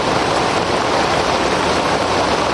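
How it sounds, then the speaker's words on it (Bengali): Heavy rain pours down on a village road, a dense, loud, unbroken rush of noise close by with no voices. "দেখো গাইস বৃষ্টি কিভাবে পড়তে আছে,"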